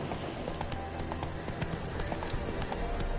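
Roach the horse trots in Witcher 3, hooves clip-clopping in a steady rhythm, close and continuous, with game ambience underneath.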